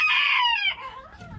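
Chickens crowded into a corner of a backyard coop give a close, loud squawk that slides downward, followed by softer clucks and scattered farmyard noise.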